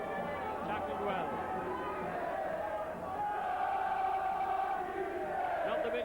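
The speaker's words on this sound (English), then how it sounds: "Not the biggest of crowds." Sparse crowd murmur at a St Helens v London rugby league match, a steady distant hum of supporters in the stands under a commentator's voice.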